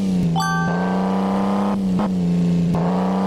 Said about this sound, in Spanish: Afortunadamente estoy conduciendo este auto 4x4 todoterreno.